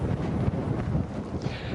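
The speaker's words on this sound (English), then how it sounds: "The winds here on the North Shore have already gusted over 50 miles an hour." Strong wind gusts roar across a microphone on a North Shore beach near Boston during a nor'easter blizzard, a continuous buffeting rumble with no talk.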